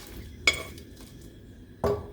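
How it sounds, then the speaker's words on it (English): Dried chilies toasting in a heavy pan produce two sharp metallic clinks and scrapes about a second apart, heard alone over a quiet, low background. "You'll want to toast the chilies in a heavy pan."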